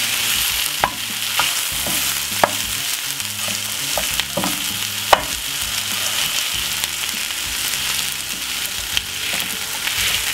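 Scooped-out potato and vegetables are stirred in a sizzling pan, with a steady frying hiss and regular sharp spatula taps and scrapes against the metal, close up.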